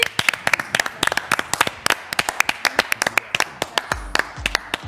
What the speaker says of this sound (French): allez, on t'applaudit